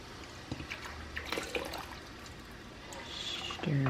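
Red shoe dye is poured into a pot for dyeing shoes, giving a short, faint trickle and splash close by, ending in a brief higher pouring tone.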